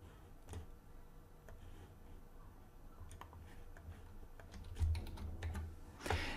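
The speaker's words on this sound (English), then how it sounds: "let me type credentials as well" Quiet, close clicking of fingers typing on a computer keyboard, irregular keystrokes scattered over a faint background hum, with a few louder taps toward the end.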